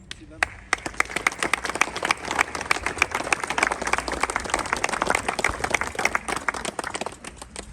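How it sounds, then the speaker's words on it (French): Applause from attendees at an outdoor memorial ceremony in Pontarlier after a stele unveiling, sustained crisp clapping from a modest crowd that swells then thins out near the end. "On peut applaudir."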